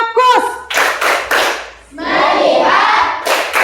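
Children in a classroom play the rhythmic clapping game tepuk fokus, sharp bursts of group clapping alternating with short chanted voices in a quick, close, call-like pattern.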